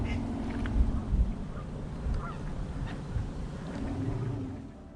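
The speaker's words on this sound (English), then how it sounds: "So many birds here as well." Geese honk and ducks call intermittently at moderate distance across Redesmere lake in Cheshire over a low outdoor rumble, several birds calling without a steady rhythm.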